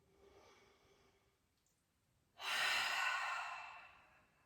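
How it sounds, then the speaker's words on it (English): A slow, deep breath in a quiet yoga class, with a soft, faint inhale followed after a pause by a louder, breathy exhale that trails off gradually. "Take a deep breath in and a deep breath out."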